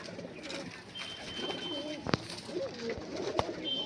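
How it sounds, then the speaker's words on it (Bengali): Malwai pigeons in a pigeon house coo repeatedly in soft, rolling calls over a steady background hiss, with a couple of sharp clicks from nearby. "পায়রাগুলো বন্ধুরা শখ করো, টোটালি মালবাহী পায়রা আছে"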